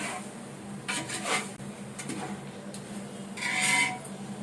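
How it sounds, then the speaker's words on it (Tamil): A spoon scrapes and rubs around a pan as ground masala is stirred and sautéed for a Tamil colocasia (seppankizhangu) kara kuzhambu, giving soft intermittent scraping strokes, close but fairly quiet, with no voices. "மசாலா வாசனை போகிற மாதிரி வதக்குங்க."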